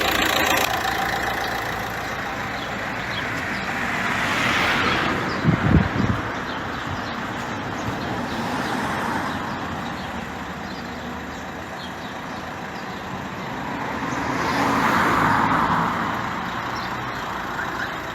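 A Renault Latitude's engine hums steadily as the car drives along, with a steady road rumble that swells and fades, and a brief clatter midway.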